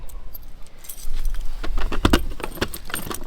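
A bunch of unlabelled keys jangles and clinks as they are tried one after another in the locks of a Forbes 15 caravan, producing bursts of bright metallic rattling, close and fairly loud, with no talking.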